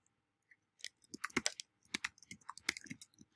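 Fingers typing a short search on a computer keyboard, a quick burst of close, light key clicks in an uneven rhythm after a moment of quiet, with no talking.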